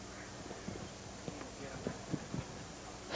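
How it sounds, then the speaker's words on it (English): Hooves of two harness-racing trotters clip-clop as the mobile gate rolls at the start of the World Trotting Derby championship dash at the DuQuoin State Fair, a loose run of soft, fairly distant beats over steady track-side background noise. "those two trotters, COBOL and Diamond Goal, are at the post for the championship dash of the World Trotting Derby"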